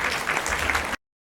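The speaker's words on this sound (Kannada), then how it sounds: "ಜೋರಾದ ಚಪ್ಪಾಳೆ ಬರಬೇಕು." A loud, dense burst of clapping from the crowd at a Vasavi Mahila Mandali fundraising event in Chikmagalur, after a long singing programme. It lasts about a second, then cuts off abruptly into silence.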